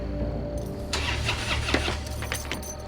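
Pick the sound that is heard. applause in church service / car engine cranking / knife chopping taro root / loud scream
car engine cranking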